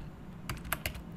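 Several quick keystrokes on a computer keyboard, close and fairly quiet, over a low steady background hum while a command is entered.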